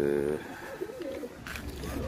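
Pigeons coo softly in an indoor pet room, giving a few short, low, warbling calls up close over a faint background murmur.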